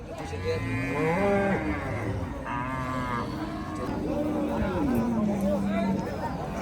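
Cattle at the Kalampur livestock market lowing in long, drawn-out moos, several calls overlapping close by over a constant background of crowd chatter and market noise.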